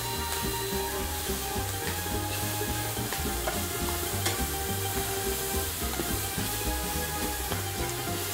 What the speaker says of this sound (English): now we saute it